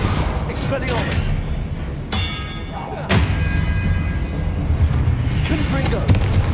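An Expelliarmus disarming spell cast in Hogwarts Legacy combat brings a couple of sharp bursts and heavy thuds over constant rumbling game noise, with voices blended into the mix.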